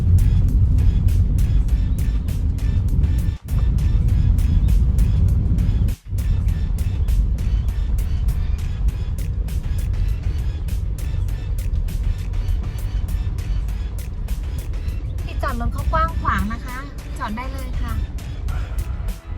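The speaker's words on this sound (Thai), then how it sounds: "อันนี้น้องใส่เกียร์บีแล้วค่ะ พอใส่เกียร์บีปุ๊บรถมันก็จะช้านะคะ" Car descending a road in low B gear, a steady loud engine and road drone running throughout with tyre rumble, someone talking over it.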